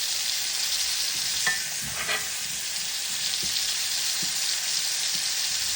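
A ribeye steak fries in a pan with butter, garlic and rosemary, a steady loud sizzle running throughout, with a few soft clinks and spoon splashes as hot butter is basted over the meat.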